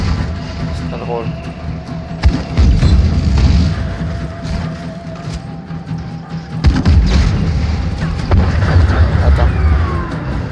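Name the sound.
grenade launcher explosions in video game Just Cause 3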